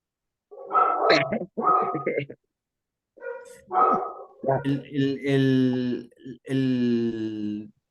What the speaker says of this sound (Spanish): ¿Quién tiene un perro que está ladrando?